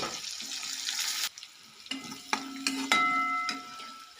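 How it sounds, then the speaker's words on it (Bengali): Chopped onions fry in a pan with a steady sizzle, interrupted by stirring scrapes and a few sharp utensil clinks, close and moderately quiet. "পেঁয়াজটা আগে একটু ভালো করে ভেজে নেব।"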